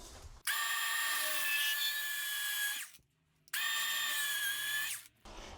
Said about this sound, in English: So we got plenty of room to be able to drill